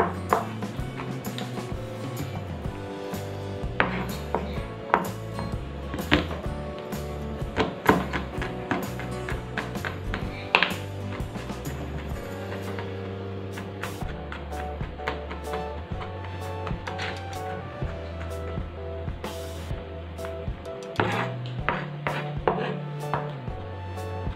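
Knife mincing garlic on a cutting board for homemade chili oil: rapid, irregular chopping taps throughout, fairly close, with steady rhythm and no talking.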